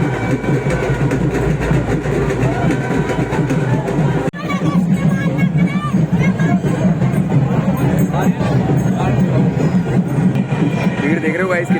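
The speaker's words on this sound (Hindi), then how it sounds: "भीड़ देख रहे हो गाइस कितनी ज़्यादा हो गई है।" Large festival crowd at a Dussehra celebration in Panipat, a dense, continuous roar of voices and low rumble throughout, with a brief dip partway through before the loud din resumes.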